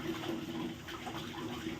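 Water pours into a cooking pot for egg rice in a home kitchen, a brief, soft continuous gush heard close and alone.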